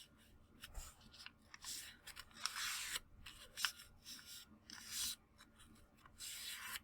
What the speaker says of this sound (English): fold the square sheet of paper in half lengthwise like this